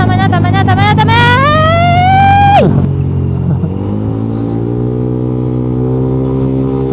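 A Yamaha Aerox 183cc scooter accelerates hard with a rising, whining engine note up close. The revs then drop sharply and settle into a lower, steady drone.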